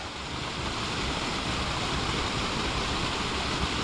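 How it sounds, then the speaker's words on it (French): A small waterfall spills down a hillside beside a river along a mountain bike trail, giving a constant, full rushing roar that holds steady and fairly close, with no talking. "Alors, on a une petite cascade là,"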